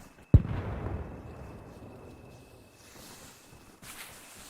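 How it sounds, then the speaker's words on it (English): An explosion down in a town in the video game ARMA Reforger DayZ, a single sharp, distant boom that rolls off into a long fading rumble, followed by faint ambient noise. "this flashback was really disturbed by an explosion down in the town"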